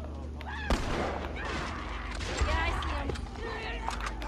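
A single weapon fires in The Last of Us, one sharp shot standing out amid dense game ambience and chatter, with a second, softer impact a little later.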